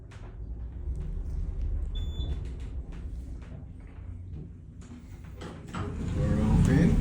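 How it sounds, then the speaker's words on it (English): Elevator door sliding open in a modernized condominium elevator car after a smooth downward ride, a swelling mechanical whoosh near the end following a soft beep, with someone talking quietly earlier. "Door open."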